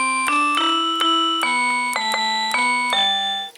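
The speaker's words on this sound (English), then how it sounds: "Bell" Bell voice on a small electronic piano kit, a melody of about nine struck notes with bright, ringing overtones that decay and overlap, played alone at close range.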